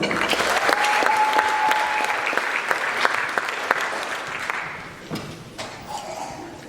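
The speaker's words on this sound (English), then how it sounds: "Let's give our students another round of applause" Applause for students at an academic excellence and community engagement awards ceremony, sustained clapping from a seated audience that fades out near the end, with a brief voice after it.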